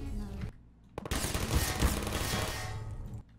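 Gunfire in the video game Portal, a short silence and then a sudden loud rattling burst of rapid shots lasting about two seconds before it cuts off.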